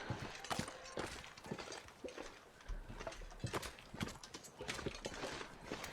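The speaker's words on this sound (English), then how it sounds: "Is that a moose stomp I hear?" Heavy moose footsteps stomp through the wilderness in The Long Dark, a series of irregular thudding steps at moderate distance, fairly quiet against ambient game sound.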